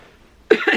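A single sharp cough bursts out suddenly after a moment of near silence, close and fairly loud.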